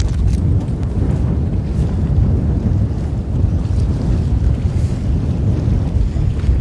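Wind buffets a boat at sea during cuttlefish fishing off Goheung, a loud, continuous rushing roar with low blustery rumble and no talk.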